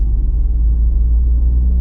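A Peugeot 208 with the 1.2 PureTech three-cylinder engine idling, heard from inside the car as a steady, loud, low rumble with a faint pulsing throb.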